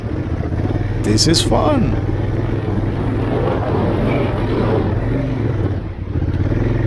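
A Honda Africa Twin adventure motorcycle revs hard while plowing through deep desert sand. Its steady, loud engine drone runs throughout, and a rider shouts excitedly over it partway through.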